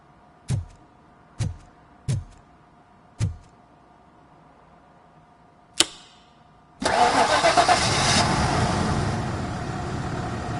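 A car engine, its ignition coil just reconnected after being disconnected, cranks over in four short separate clicks and a sharp knock, then catches and settles into a steady, fairly loud running idle.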